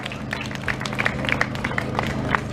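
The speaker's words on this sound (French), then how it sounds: "On peut les applaudir très fort" An audience applauds at the Boucles de l'Austreberthe 2022 event, scattered sharp hand claps popping at moderate distance over steady background music.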